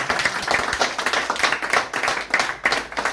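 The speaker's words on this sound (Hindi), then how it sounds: "ताली जोरदार वाली बजनी चाहिए।" Loud, dense clapping from an audience at a gathering in Udaipur, steady and sustained throughout with no voices standing out.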